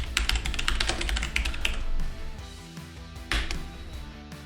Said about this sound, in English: And in here I'm going to type in 20th Century Boy.